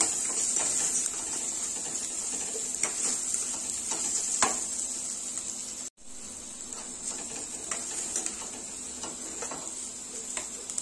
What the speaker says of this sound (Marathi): व्यवस्थित असं परतून घ्यायचं जेणेकरून लसणाचा किंवा आल्याचा जो कच्चेपणा आहे तो निघून जावा